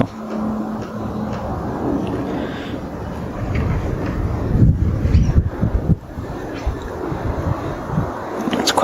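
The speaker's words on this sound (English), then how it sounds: "It's quite windy today." Gusty wind buffets the microphone with low rumbling bursts, growing stronger midway, with faint rustling in the background.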